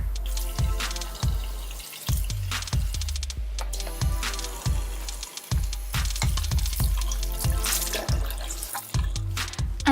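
A tap runs into a sink with steady splashing and dripping while a face mask is rinsed off. Rhythmic low thumps sound underneath.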